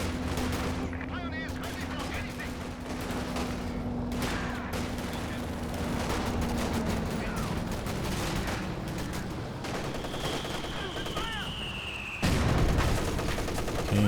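Heavy artillery strike in the WWII strategy game Company of Heroes 2, a 2v2 match: dense gunfire and booming impacts pile up throughout, with a louder blast near the end over steady battle noise.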